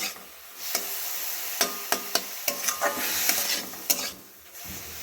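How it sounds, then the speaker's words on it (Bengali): Grated carrot for carrot halwa stir-fried in a pan, a steady sizzle broken by repeated scraping strokes and light taps of a spatula against the pan, close and fairly loud. "এই সময় এটাকে খুব ভালো করে এইভাবে নেড়ে নেড়ে ভাজতে হবে"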